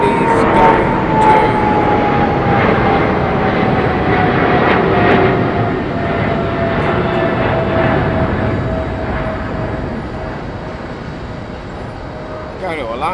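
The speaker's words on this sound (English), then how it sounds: "British Airways, it's a Boeing 777." A British Airways Boeing 777-200 airliner roars steadily at London Heathrow, a loud broadband engine rumble with a slowly falling whine, sustained throughout with a faint voice beneath.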